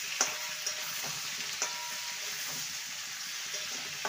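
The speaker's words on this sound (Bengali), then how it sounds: "এবারে কেটে রাখা বেগুন আর সজনে ডাঁটা দিয়ে দেবো। আরও 2 মিনিট ভেজে নেব।" Cut eggplant and drumstick pieces frying in oil in a pan for a vegetarian vegetable dish, giving a continuous soft sizzle with a few light clicks and taps of stirring.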